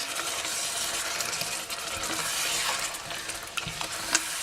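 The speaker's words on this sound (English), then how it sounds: "stir that round" Homemade tomato ketchup stirred in a pot, a continuous bubbling, hissing simmer with faint scraping of the spoon and an occasional light clink, steady and close with no talking.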